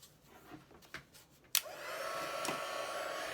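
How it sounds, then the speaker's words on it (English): A heat tool switches on suddenly and blows hot air over craft paper in a steady, close whoosh. Before that come a few faint taps and rustles. "I'm going to bring in our heat tool, heat this up."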